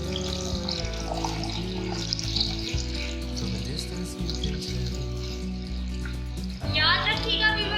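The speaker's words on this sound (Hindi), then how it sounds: "और जैसे इसमें उबाल आ रहा है मैं इसमें 1 कप पानी डाल दूँ।" Water poured into a boiling pan while cooking vermicelli zarda. A short, loud splashing rush comes in near the end, after a steady stretch of background music.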